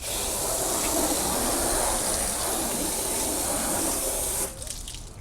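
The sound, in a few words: water hose rinsing a truck fender well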